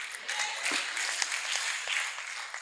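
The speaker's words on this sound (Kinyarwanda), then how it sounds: "ngaho mukoma amashyi ariko munarebe hano." A church congregation claps hands together at a worship service, a dense wash of overlapping claps held at a steady moderate level for a couple of seconds, with no voices standing out.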